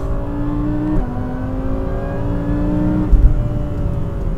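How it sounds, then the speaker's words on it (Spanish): Audi R8 GT MTM V10 engine revving, a loud, steady tuned exhaust note with a brief rise near the start and a short burst later, heard alone without talk. "Y disfrutamos del sonido de este V10"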